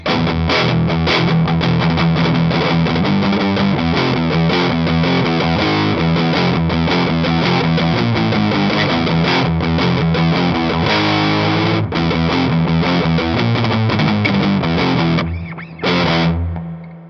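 A distorted Squier Supersonic electric guitar plays sustained chords and notes with a washy, echoing spring reverb tail, ending in a brief pause and short final strum.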